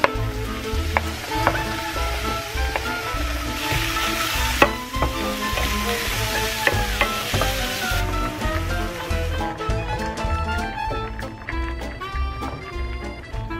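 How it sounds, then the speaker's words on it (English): Steady sizzling of onion and vegetables frying in a pan, with occasional stirring clatter, underneath continuous background music. "just saute onion, veggies."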